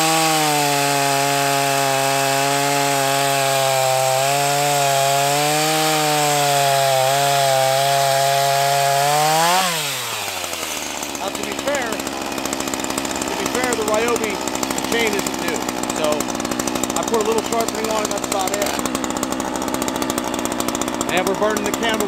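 A Ryobi battery chainsaw winds up with a steady high whine, then drops into a dense, loud, continuous cutting roar as the chain bites into a tree during felling.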